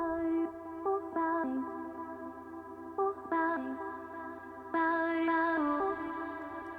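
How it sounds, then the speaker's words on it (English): A self-made vocal instrument built from sampled voice plays a melody of sustained harmonic notes over a low drone, phrases separated by brief pitch steps, gradually opening up as a filter brings it in, with no talking. "going back to this vocal instrument that I created"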